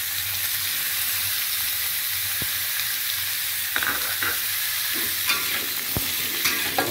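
Vegetables for chicken capcay stir-fry in a hot pan with a loud, continuous sizzle and hiss, broken by occasional scrapes and knocks of a spatula.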